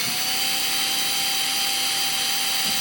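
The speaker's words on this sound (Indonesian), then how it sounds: "makanya ini kegunaannya mesin bor ini, kita amplas halus" A drill machine sands a repaired broken denture, a steady high-pitched whirring grind held continuously and close, with no talking.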